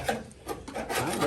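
Bondo body filler being ground off a car body panel, an uneven rasping scrape that swells and fades in close, steady bursts with no talking.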